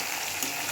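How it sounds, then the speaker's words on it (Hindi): Fish fries in a pan with a steady, soft sizzle and faint crackle, heard close and alone. "मछलियाँ फ्राई कर रही हूँ"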